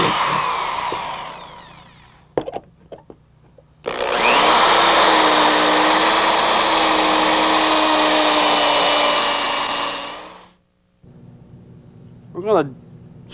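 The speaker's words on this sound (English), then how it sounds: "We're going to come in here and drill the holes in the deepest areas of this dent." A power drill whines loudly and steadily for about six seconds, drilling holes into the deepest areas of a dent in a car body panel, after brief bursts of tool noise and before a short pause with a voice.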